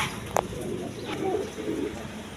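Low coos from a pair of Jacobin pigeons sitting on eggs in a clay pot come softly and intermittently at a pigeon farm, with a brief sharp tap near the start.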